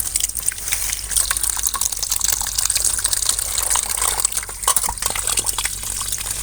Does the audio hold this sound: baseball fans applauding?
no